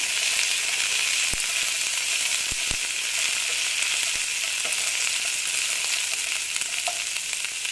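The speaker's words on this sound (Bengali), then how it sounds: "তারপর আমি দিয়ে দিচ্ছি কারি পাতা, দিয়ে ভেজে নিচ্ছি আবার।" Curry leaves fry in hot oil while oats are cooked, making a steady, crackling sizzle. A few sharp utensil taps sound near the start, and the frying continues without any voices.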